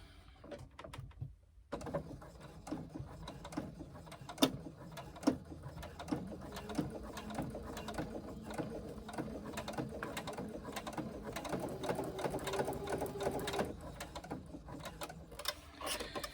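A sewing machine bastes the edges of sling fabric together, running close and steady with a continuous rattling, ticking whir after a brief pause at the start.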